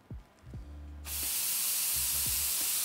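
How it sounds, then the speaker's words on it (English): Compressed air purge kicks on in a Graco Fusion PC spray gun: a sudden loud, steady broadband hiss that starts abruptly and runs continuously, after a few soft low thumps. "So we're gonna go ahead and kick on our air here."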